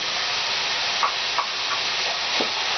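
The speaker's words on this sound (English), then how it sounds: "it's apparently not enough to fry the potatoes. I'm gonna put the potatoes in directly" Potatoes frying in a pan with minced meat and oil, a steady close hiss of sizzling with a few faint pops and crackles scattered through.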